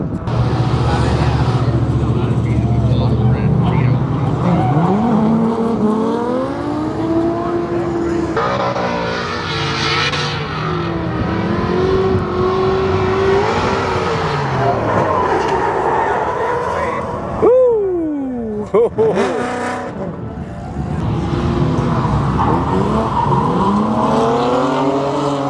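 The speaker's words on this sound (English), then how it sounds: "that pretty much wraps up the second drift session, at least on the kart" Cars drifting on a kart track at a GridLife event rev hard with rising and falling engine pitch and shifting engine notes, while tires screech in bursts. The sound is loud and continuous, and people talk over it.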